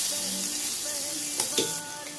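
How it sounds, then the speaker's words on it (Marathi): Asafoetida hitting hot oil in a pan sizzles steadily and close up, a continuous bright frying hiss with a couple of brief louder crackles near the end, no voices. "आता मी तेल गरम करून घेतलंय. मी घालते याच्यामध्ये हिंग"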